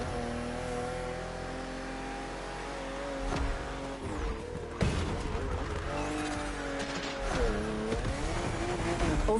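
BMW M2 and M4 cars race in The Crew Motorfest along a narrow, twisting road, engines droning and revving continuously with shifting pitch through bends, occasional tire squeal and louder surges as they accelerate.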